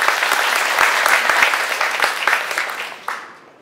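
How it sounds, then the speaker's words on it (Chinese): An audience at a lecture hall talk about a diplomat breaks into dense, steady applause that holds evenly, then tapers off and fades at the end. "先请大家掌声欢迎。"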